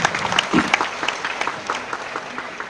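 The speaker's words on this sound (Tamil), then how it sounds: "உண்மையிலேயே கைத்தட்டல் வந்து ரொம்ப பவர்ஃபுல்லான ஒரு விஷயம்." Audience applause at a Tamil film audio launch event, a dense burst of clapping from a crowd that is strongest at the start and continues steadily at moderate loudness.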